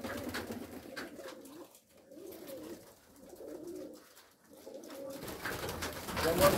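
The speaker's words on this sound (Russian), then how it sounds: "Мордовские голуби есть." Mordovian pigeons coo in a pigeon loft, giving repeated soft, rolling calls in three or four bursts with brief lulls between them, fairly close and moderately quiet.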